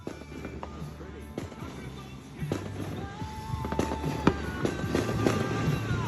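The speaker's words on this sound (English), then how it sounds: "These fireworks are pretty tough so far for being store-bought and lit at someone's house." Store-bought fireworks set off at a house on the Fourth of July crackle and pop steadily, with scattered sharp bangs over a continuous fizzing, rumbling background at moderate distance.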